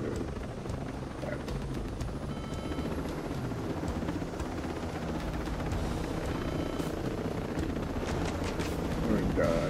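A helicopter in the Ghost Recon Breakpoint video game drones steadily and loudly for the whole stretch, its rotor rumble mixed with bursts of gunfire and game effects, with voices talking now and then over it.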